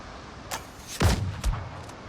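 Gunshots in the video game Crosswind, two or three sharp booming shots with low thuds about half a second apart, moderately loud over quiet background, no speech.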